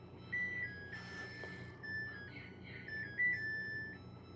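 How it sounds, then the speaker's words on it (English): A Samsung washing machine plays its alert melody, a short run of thin electronic beeping notes at moderate distance over a low background hum, with no talk. "Good old Samsung washer. Still get used to the sound of that thing."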